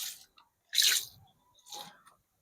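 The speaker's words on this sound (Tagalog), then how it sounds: "Konting tubig." Water is poured onto the soil of freshly potted philodendron cuttings in short trickling bursts, close and soft, with quiet pauses between the pours.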